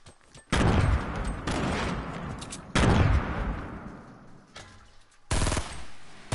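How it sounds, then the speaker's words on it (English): Bursts of gunfire from a PS4 online shooter match, loud sustained volleys separated by short gaps and ending in a sharp, dense burst, with no talk over them. "Shooting at other people to get kills."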